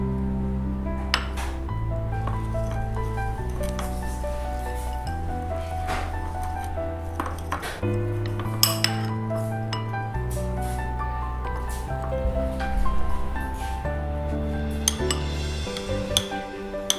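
Utensils clink and scrape against a bowl while Nutella oats are mixed, with repeated light taps and stirring over a steady backing of music.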